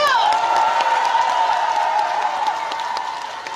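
Crowd at an outdoor market festival concert in Busan, Gijang, applauds and cheers for a trot singer, loud sustained clapping and whoops under a lingering music tone that slowly fades.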